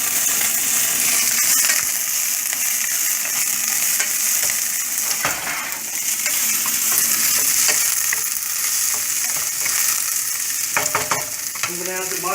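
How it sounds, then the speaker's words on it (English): Onions and garlic sautéing in a pan as a risotto base: a strong, steady hiss of frying with repeated scraping stirs and clinking utensil taps, close and loud throughout. "I'm going to saute this."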